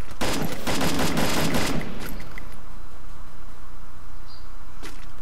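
Automatic Tommy gun fire in the Free Fire video game, a dense loud burst of rapid shots for about two seconds, then fading to a low ambient hum with a faint later crack.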